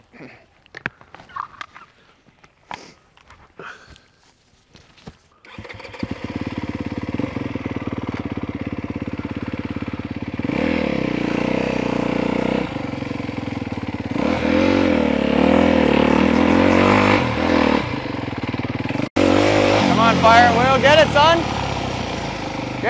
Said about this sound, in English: No pressure, it's just my supercross bike.